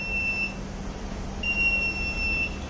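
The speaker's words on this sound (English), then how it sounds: "buzzer will be on and off 2 times" An electronic buzzer on a Raspberry Pi–based vehicle health monitoring setup gives two short, thin beeps separated by a pause, clear against a quiet steady background hum.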